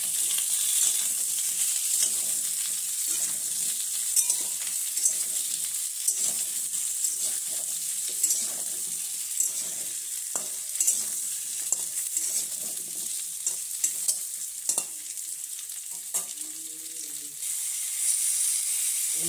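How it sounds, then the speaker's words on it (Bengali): Pointed gourd and potato pieces stir-fried in a pan, giving a soft continuous sizzle under frequent scraping and clacking spatula strokes, close by and fairly quiet, with no talking. "এবার এই সবজিগুলো দিয়ে দেবো, পটল আলু দিয়ে নাড়তে থাকবো"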